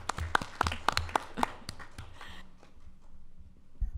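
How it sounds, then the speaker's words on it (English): A small round of applause rises from the audience at a school district board of education meeting, a couple of seconds of scattered, fairly close clapping that fades into a quiet room hum. "I really just feel like we need a round of applause for those two"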